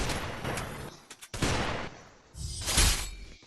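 Gunfire in the Free Fire mobile battle royale game, a few short bursts separated by pauses, moderately loud, with faint background game sounds.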